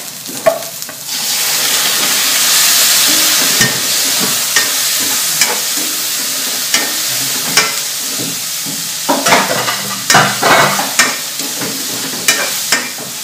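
Chicken pieces frying in a pan for chicken menudo, a loud sizzling hiss that rises and stays continuous, dotted with sharp clinks and scrapes of stirring near the end, with no talking.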